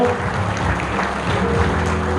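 Steady audience clapping at a women's handball tournament ceremony as souvenirs go to the Australian team, continuous and moderately loud throughout.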